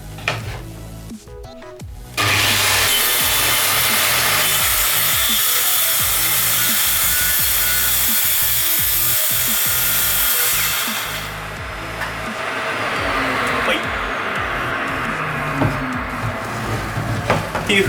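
An electric circular saw runs loud and steady through wood along a homemade guide, with a sustained whining cut lasting many seconds after a brief start-up.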